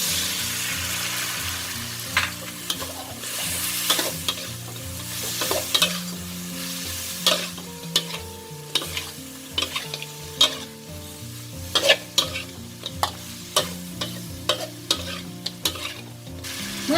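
Fish stir-fried with celery and three colours of chili in a wok, a little water added, giving loud close sizzling with repeated clanks and scrapes of a spatula, no voices.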